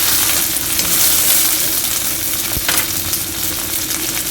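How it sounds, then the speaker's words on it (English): Okra fries in a pan with a dense, continuous sizzle and crackle, loud and close, with one sharp tap of a utensil partway through. "Just let it cook"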